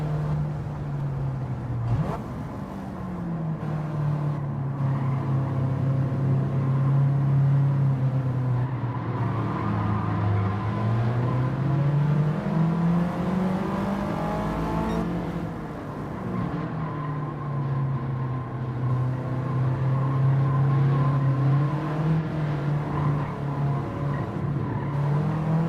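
A car engine in Gran Turismo 7 climbs and falls through the revs, a loud, smooth drone that rises, dips mid-run, then swells again over a long stretch with no talk.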